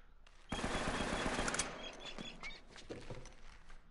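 Rapid gunfire in the video game Uncharted: Drake's Fortune, a dense burst of shots starting abruptly and thinning into scattered cracks.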